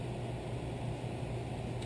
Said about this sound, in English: Excuse the noise, but I've got my furnace running in the garage.